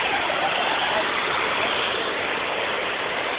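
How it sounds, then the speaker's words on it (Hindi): A steady, continuous rush of falling water, loud and close, with no pauses or voices. "ये देखिए झील के झरना गिर रहे हैं, पूरे के पूरे झरने हैं"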